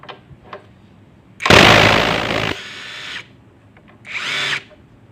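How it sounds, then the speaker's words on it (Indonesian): A JLD 350 Nm impact wrench loosens a bolt with about a second of loud, continuous rattling hammering, then a quieter whir as the long bolt spins, followed by a second short burst; no one speaks over it. "sekarang kita akan coba menggunakan power tool ini"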